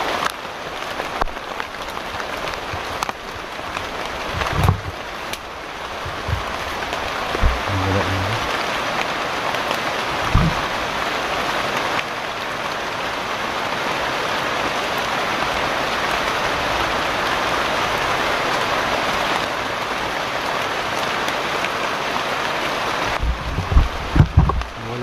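Rain falling as a steady, dense hiss of drops on surfaces, fairly loud and continuous for the whole stretch, with a few bumps and knocks near the start and end and no talk.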